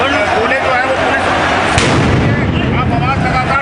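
Police firing tear gas shells at a farmers' protest in Rajasthan, a dense loud roar of bangs and crowd noise with a sharp burst near the middle, a voice talking beneath.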